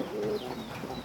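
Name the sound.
lakkha pigeon cooing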